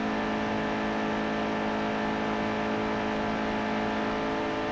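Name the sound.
race car engine on qualifying lap in NASCAR Heat 2 video game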